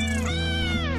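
A cat character in a cat video game lets out a single short meow that rises and falls in pitch, clear and close over a low steady background hum.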